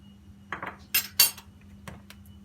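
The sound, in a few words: whisking cake batter in a bowl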